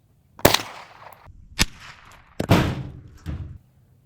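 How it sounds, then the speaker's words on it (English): A .22 Long Rifle Marlin Model 60 fires four sharp, loud shots at irregular intervals, each a crisp crack with a short ringing tail, no talking. "We're going to shoot 22 long rifle."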